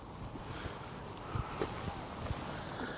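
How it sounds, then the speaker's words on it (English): Wind gusting through an outdoor garden, a soft, steady rush buffeting the microphone with faint knocks and rustles, quiet and continuous, with no voices. "I know it's a bit windy"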